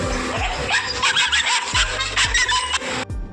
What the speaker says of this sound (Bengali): কিছু কিছু প্রাণী হাওয়ায় চিল্লাতে বেশি পছন্দ করে, তাদেরই মধ্যে একটি হলো এই কুকুর